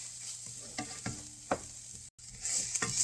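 Tomato basil soup made with heirloom tomatoes cooks in a pot, giving a soft, steady sizzle with occasional light scrapes and clinks of a spoon stirring, close and quiet, with no voices.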